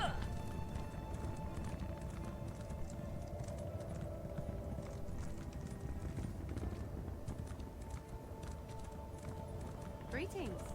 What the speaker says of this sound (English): We got a little horse here.